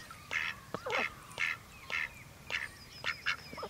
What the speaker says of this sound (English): So there are a pair of ducks in our pond.